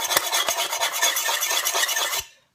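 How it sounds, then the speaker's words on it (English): A stainless steel fork scratches hard against a hard anodised pan in a harsh, continuous rasping scrape with a few sharper catches, loud and close for about two seconds before stopping. "taking my trusty stainless steel fork here, and I'm going to scratch at the pan just here."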